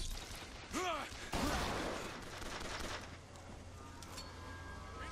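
Gunfire at a flying gunship in Bioshock Infinite. A few sharp, faint blasts sit among steady distant rattling and mechanical noise, with chirping tones early on.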